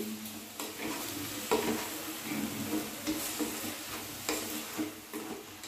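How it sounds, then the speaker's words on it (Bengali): Bottle gourd greens are stirred in a pan with salt and turmeric, a quiet steady sizzle broken by repeated scraping strokes of the spatula every second or so, with no talking. "দিয়ে দিচ্ছি সানরাইজের হলুদ গুঁড়ো। ভালো মতো নেড়ে নিচ্ছি।"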